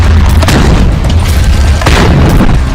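Cheap rockets fired from the ground by Hamas fighters produce a loud, sustained roaring boom, very close and overwhelming, with swelling blasts and no voices.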